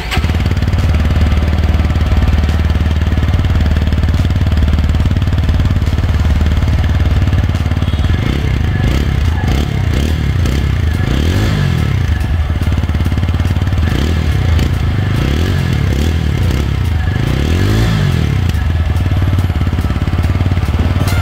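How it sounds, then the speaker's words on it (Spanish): A TVS Apache 160 Fi motorcycle engine runs steadily and close up for the whole stretch, with a rough idle that builds into several rising and falling revs in the second half, alone without talk. "Vamos a escuchar el motor de la moto."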